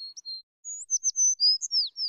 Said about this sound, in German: Was singen die Vögel da droben und jauchzen und toben?